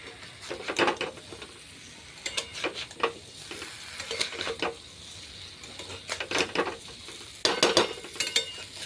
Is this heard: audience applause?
no